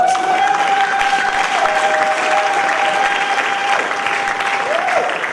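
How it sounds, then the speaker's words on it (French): Church congregation applauding during a sermon, loud sustained clapping over a held sustained tone, with faint voices mixed into the steady crowd noise. "Est-ce qu'on peut donner une main d'acclamation?"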